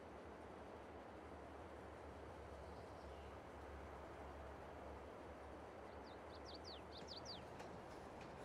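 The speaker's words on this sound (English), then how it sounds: "So it's going to hop on the train and we'll take a drive on down to the" A train ride in Farming Simulator 22 produces a faint, steady low rumble of rolling rail cars. Brief bird chirps come in toward the end.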